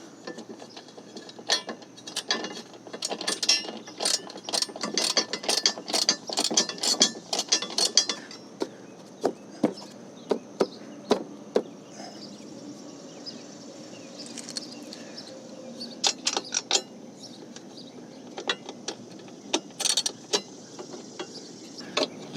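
A ratchet clicking in quick bursts while tightening the bolts on a Ford Super Duty Tremor step bar, close and crisp, with pauses between runs of clicks.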